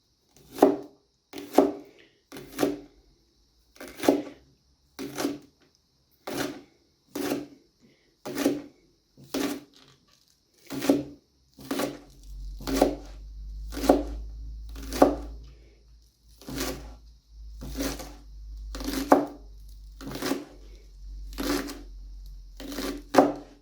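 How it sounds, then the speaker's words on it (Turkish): A knife chops green onions steadily on a cutting board, about twenty crisp, evenly spaced strikes, close by, with a low hum joining partway through. "arzunuza göre yeşil soğan doğruyorum"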